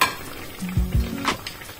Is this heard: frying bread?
yes